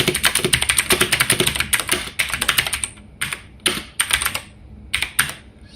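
Python code being typed on a computer keyboard, a close, brisk run of key clicks that thins into short scattered bursts with pauses between them.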